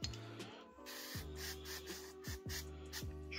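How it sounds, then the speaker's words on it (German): Sticker remover sprayed onto a cloth while cleaning a PC workstation: a few short hissing spray bursts, quiet and close, over a steady mechanical hum with shifting tones. "sprühen wir ein bisschen Aufkleberentferner drauf"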